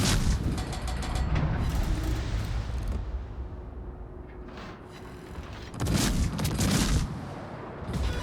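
Naval gunfire in World of Warships, with heavy booming salvos and a dense rumbling roar of shells. A fresh loud burst of impacts arrives near the end.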